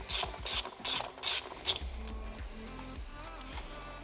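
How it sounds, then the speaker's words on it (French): Ratchet clicking quickly in five bursts while loosening a small 10 mm screw on a Suzuki Swift 1.2 VVT engine, close and fairly loud, followed by low mechanical rumbling. "On va desserrer la petite vis de 10 qui est là."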